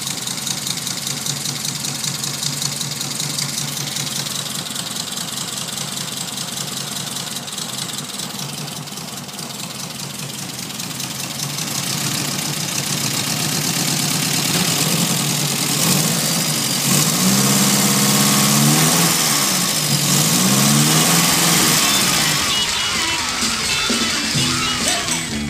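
A Triumph TR4 engine idling with a fairly even, steady beat, heard up close as a continuous mechanical rumble and clatter that grows louder and rougher partway through.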